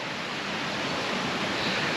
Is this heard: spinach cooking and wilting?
no